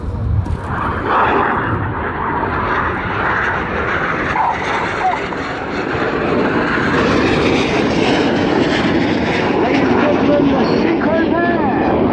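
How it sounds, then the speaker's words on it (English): RAF Red Arrows Synchro pair jets descend toward the runway for double rolls at the Yeovilton air day, a loud, sustained roar that holds steady throughout under continuous commentary from a public address voice. "They now start their descent down to the runway for their final manoeuvre of the display, which are the double rolls."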